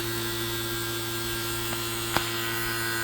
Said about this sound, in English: you can hear that tone change in the vacuum pump